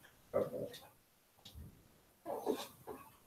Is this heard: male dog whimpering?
yes